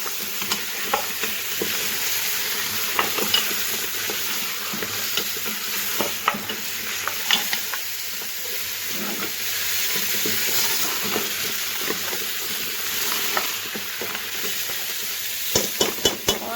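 Mutton trotters (paya) frying over high heat while being stirred, with a steady loud sizzle and repeated scraping clicks of a utensil against the pan throughout, no voices.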